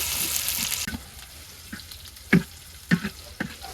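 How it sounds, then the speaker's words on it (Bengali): Chopped garlic and onion fry in oil in a wok, giving a steady sizzle with a few sharp stirring scrapes and clacks close by. "তেল দিয়ে দিলাম কড়াইতে রসুন কুচি দিয়ে দিলাম পিঁয়াজ কুচি বাদামি কালারের সাথে একেবারে ভাজবে নিমু"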